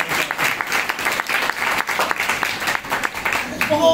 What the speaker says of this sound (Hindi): तालियां बजाएं इसके लिए।